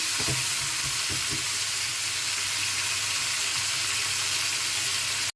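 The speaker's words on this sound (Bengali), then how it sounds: "এবার এটাকে ভাজতে হবে আমি একটু গ্যাসটা কমিয়ে ভাজছি নাহলে পুড়ে যাবে" Pointed gourd (potol) fries on low heat in a pan, producing a loud, steady close-up sizzle with a few stirring knocks early on, no voices.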